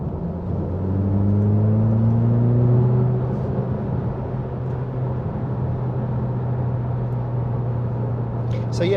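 A Ferrari Roma's engine accelerates hard on an open road, a low rumbling drone that rises in pitch and then settles into a steady cruise, heard from inside the cabin while someone talks over it.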